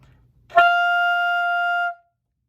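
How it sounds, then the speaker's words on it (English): A single sustained high D on a saxophone rings out clearly for about a second and a half, steady and alone, then stops. "This is going to be my high D on the saxophone."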